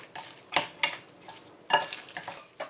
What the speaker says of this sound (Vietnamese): Và cũng trộn thịt